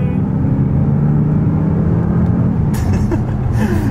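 A loud, steady engine drone from inside an Audi S8 revving above 4,000 RPM, with a sharp hissing burst near the end.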